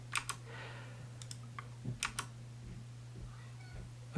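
Quiet typing on a Moonlander mechanical keyboard, with a few scattered bursts of key clicks over a steady low electrical hum in an office setting.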